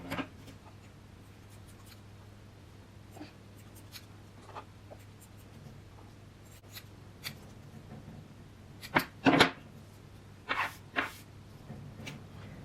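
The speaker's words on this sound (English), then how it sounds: "after combing them, I'm going to go over and cut them again" Scissors snip through macrame cord fringe on handmade earrings, a few quick close cuts near the end after quiet rustling and handling of the cord.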